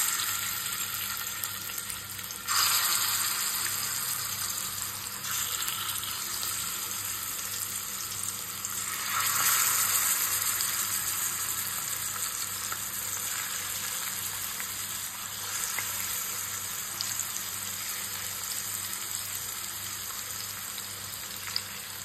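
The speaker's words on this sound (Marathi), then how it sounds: "चला तर आता तेल पण गरम झाले बघा तव्यात एक कडून फ्राय करून घ्यायचं." Gittadi fish frying in hot oil on a flat tawa gives a loud, dense, continuous hiss and sizzle that swells now and then as pieces shift, close up and with no voices over it.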